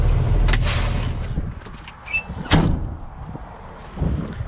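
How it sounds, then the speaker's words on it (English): A roll-up door on a truck's trailer rattles and rolls, a loud rumbling slide at first followed by a few fainter clunks and knocks, with no one talking. "It's a roll-up door."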